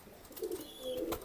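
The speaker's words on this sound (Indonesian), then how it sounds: "Ini Prabu merpati pernah juara teman-teman." A racing pigeon coos softly nearby, a few brief low hooting notes against a quiet background with no talk.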